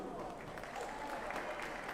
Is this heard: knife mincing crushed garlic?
no